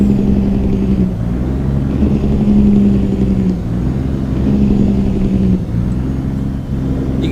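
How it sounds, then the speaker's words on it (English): A truck's diesel engine runs loud and close under Jake braking, a heavy rumbling drone with a low pulsing throb that rises and falls over several seconds. "Alright, you ready for this Jake brake?"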